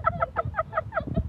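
Geese honk in a quick, repeated series of nasal calls, about eight close, evenly spaced cries in just over a second.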